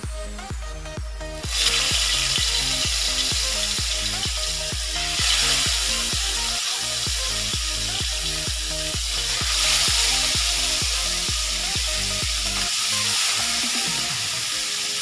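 Milkfish (bangus) fries in hot oil with a dense, steady sizzle and crackle, loud and close throughout, with no talking over it.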